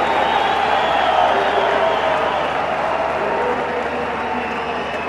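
A large cricket crowd at a one-day match between New Zealand and Sri Lanka roars and cheers continuously, a dense, loud wash of voices that slowly eases; a commentator talks over it.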